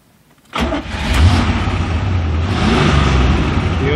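A 1980 Chevrolet Corvette with a manual gearbox cranks and fires up after a moment of near silence, then settles into a loud, steady, throaty engine rumble close by, with no talking.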